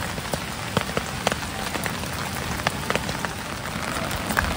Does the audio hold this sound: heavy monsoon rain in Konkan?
yes